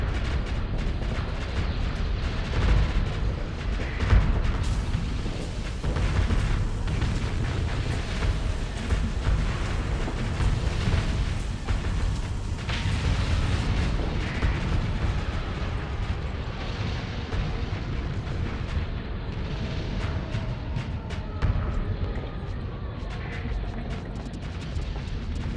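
Missile explosions in the Starsector space combat game rumble as a dense, continuous barrage of deep booms and crackling blasts, loud and unbroken throughout.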